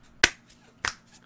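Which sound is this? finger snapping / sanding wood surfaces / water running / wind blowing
finger snapping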